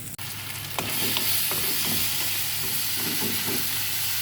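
Tomato with a little sauce frying and being stirred in a small amount of oil, giving a steady close sizzle with scraping strokes of the spoon throughout and no talk.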